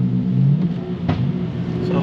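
A car engine with a stage 3 tune revving with throttle blips and downshifts, a loud close engine note that rises and falls briefly while someone talks over it.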